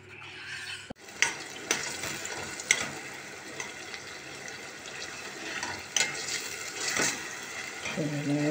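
Bulgur pilaf base with tomatoes sautéing in a pan, a steady soft sizzle broken by scraping stirs and a few sharp clinks of a utensil against the pan, with faint talk briefly at the start.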